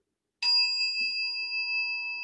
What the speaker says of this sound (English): when we start, I have a chime, and you're going to hear this